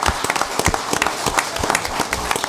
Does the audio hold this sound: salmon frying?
no